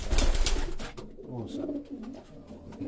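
A racing pigeon coos in a loft, soft repeated throaty coos close by after a louder rustle and flutter at the start.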